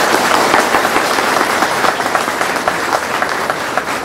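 A large audience at a gathering honouring Chandrashekhar Azad applauds loudly and continuously, a dense wash of clapping that stays strong for the whole stretch.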